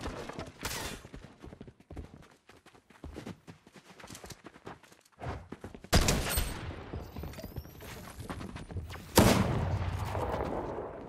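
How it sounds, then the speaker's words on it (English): Video-game gunfire during a solo cash cup qualifier match: scattered bursts of sharp shots and rapid volleys, sparse at first, then growing louder and denser toward the end, with brief footstep-like clatter between them. "Is this guy shooting?"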